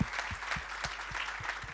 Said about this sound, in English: I want to give her another round of applause